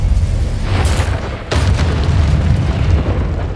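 Spell blasts in the video game Hogwarts Legacy, with loud, continuous rumbling booms and two sharper bursts over a dense, roaring background.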